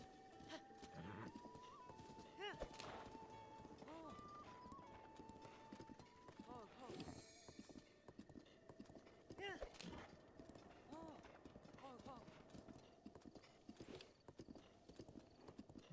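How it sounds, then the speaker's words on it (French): Horse galloping in the video game Zelda Breath of the Wild, a steady rapid clip-clop of hooves running throughout, with a short whinny, a musical tone and someone talking over it. "Mon cheval, il est là."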